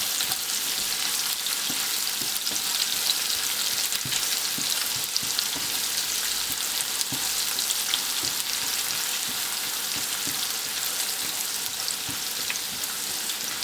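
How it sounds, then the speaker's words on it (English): Onions fry in a pan for cabbage thoran with a constant close hiss and sizzle, broken by occasional soft taps of stirring, and no one speaks. "Fry the onions and all the other ingredients in here until the onion reaches very light golden brown color."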